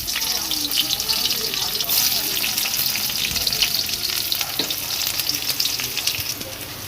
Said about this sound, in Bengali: কড়াতে দিয়ে দিয়েছি সর্ষের তেল এর মধ্যে পেঁয়াজগুলো ভেজে নেব